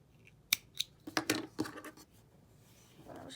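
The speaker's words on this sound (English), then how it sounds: "I'm just going to take my scissors" Scissors snip crochet yarn while fastening off a small crocheted jellyfish: several quick, close metallic clicks and snips in an uneven cluster, followed by soft rustling.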